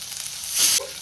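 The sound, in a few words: frying spices for goat head sambar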